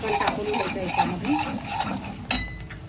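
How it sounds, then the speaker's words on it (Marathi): Chicken tipped into oil-fried masala in a pan sizzles steadily up close while a spoon stirs and scrapes through it in repeated strokes. "तर आता चिकन टाकून घ्यायचं याच्यामध्ये."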